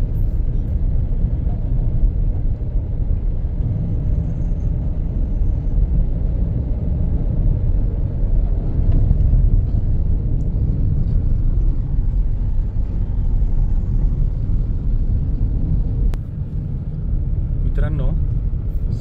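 Highway traffic jam on a road under construction, with queues caused by a broken-down truck, gives a constant low rumble of idling and creeping vehicles heard from inside a moving car, steady and close throughout, with no horns standing out.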